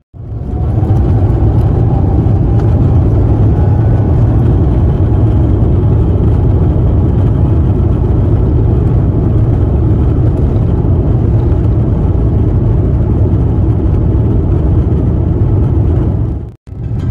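Inside the economy cabin of an Iberia Airbus A350-900 taxiing out to the runway, a loud, steady low engine rumble and whir fills the air without a break and cuts out briefly near the end.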